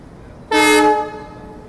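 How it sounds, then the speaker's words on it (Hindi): An ALCO diesel locomotive shunting at Secunderabad station sounds a single loud, close horn blast of about half a second, which fades into station background. "यहाँ पर देखो एल्को लोकोमोटिव शंटिंग करता हुआ सिकंदराबाद स्टेशन पे"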